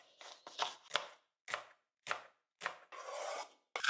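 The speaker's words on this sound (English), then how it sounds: "Finally chop leek and onion." Leek and onion chopped with a knife on a board, a series of about ten crisp, close chopping strikes in uneven bursts with short pauses, the last few running together into a quick rapid stretch.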